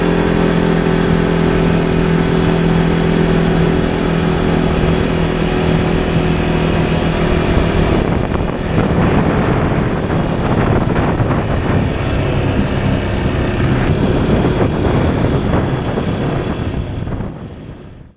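An Arctic Cat Alterra 600 ATV engine drones loudly and steadily while riding at speed, with a constant close-up roar and shifting tone as the throttle changes, then cuts off abruptly at the end.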